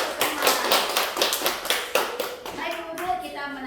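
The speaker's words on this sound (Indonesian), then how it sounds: "Oke, tepuk tangan untuk kita semua." A group audience claps together for about four seconds at a training session, dense and steady, fading slightly toward the end, with a voice faintly audible near the close.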